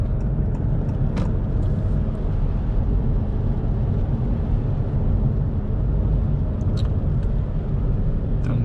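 A Honda e electric car drives beneath a city bridge at low speed, giving a steady, loud low rumble of tyres and road noise with little engine tone and faint higher ticks, continuous from start to end.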